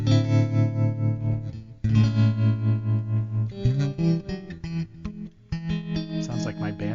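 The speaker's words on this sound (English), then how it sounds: "this is kind of like 3 or 4 different tremolos in this" Electric guitar played through a Zoom G5 multi-effects pedal with a tremolo effect, its wave pattern changed, sustained chords pulsing steadily in volume with a lush, chorus-tinged shimmer, played alone.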